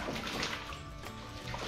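Water and dirt slosh in a gold pan shaken back and forth inside a tub, a steady close rushing swish throughout with no talking.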